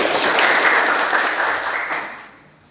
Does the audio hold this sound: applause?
yes